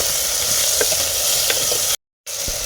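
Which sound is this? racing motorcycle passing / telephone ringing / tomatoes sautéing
tomatoes sautéing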